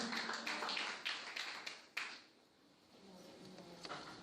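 Scattered hand claps from a church congregation, fairly faint and irregular, thinning out midway and picking up again lightly toward the end.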